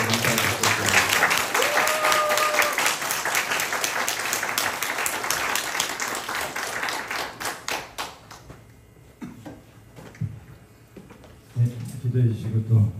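Loud, sustained applause from a church congregation at a retreat, dense clapping that thins out toward the end with some scattered claps and murmuring.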